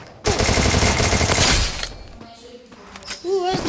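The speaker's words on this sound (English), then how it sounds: "Who's shooting me?" Rapid automatic gunfire in the Free Fire video game, a loud dense burst of shots for over a second that then gives way to quieter game sounds and chirpy effects.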